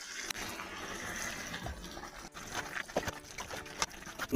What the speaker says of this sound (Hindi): तो हल्का सा पानी डालेंगे।